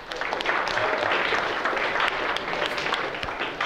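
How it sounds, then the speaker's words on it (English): An audience in a lecture hall claps together, a dense burst of applause that rises quickly and holds steady before thinning out near the end. "Let's give Carl a round of applause"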